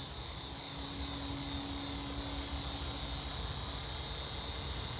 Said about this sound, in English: Very, very smooth helicopter.